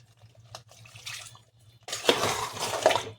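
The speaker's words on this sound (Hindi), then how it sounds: "ये देखिए पानी डालने जा रहे हैं जिसमें काजू था" Water that rinsed cashews is poured into a pan of chicken korma, starting with a few faint clinks and then a steady close splashing pour that runs to the end over a low hum.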